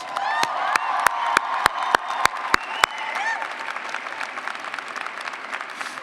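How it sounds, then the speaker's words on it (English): A graduate commencement audience applauds, a broad wash of many hands with cheers and whoops, while a few sharp, evenly spaced loud claps stand out near the start. "Let's give her another round of applause."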